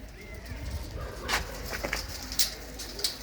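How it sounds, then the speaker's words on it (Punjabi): Pigeons in a loft, soft low cooing and a few brief fluttery calls spread across the clip, fairly close, over a steady background hum with no clear talk. "ਇਹ ਕਬੂਤਰੀਆਂ ਨੇ ਜਿੰਨੀਆਂ ਵੀ ਤੁਸੀਂ ਬਾਈ ਜੀ ਦੇਖ ਰਹੇ ਹੋ"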